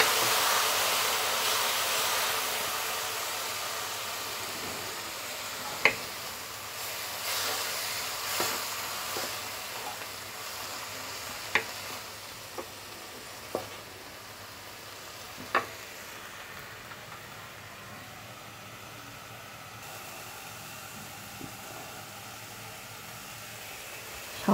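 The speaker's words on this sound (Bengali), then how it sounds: "সামান্য জল দিয়ে দিয়েছি যাতে গুঁড়া মশলাগুলো পুড়ে না যায়।" Powdered spices, chilli powder among them, simmer in a pan with a splash of water for a soft, steady hiss, broken by a few sharp clinks of a spatula on the pan.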